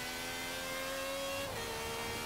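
A Fiat's engine in the Forza Horizon 3 racing game drones at high revs, a steady sustained tone that shifts pitch briefly as a gear changes, with no talking.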